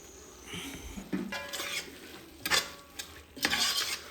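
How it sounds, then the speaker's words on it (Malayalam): Biryani masala with lemon juice and coriander leaves is stirred in a pan for chicken biryani, giving soft wet scrapes and brief sizzling bursts at irregular intervals, close and fairly quiet. "നന്നായിട്ടൊന്ന് ഇളക്കി യോജിപ്പിക്കാം."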